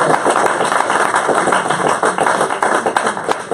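A church congregation applauds loudly, with dense, steady clapping filling the whole stretch without a break.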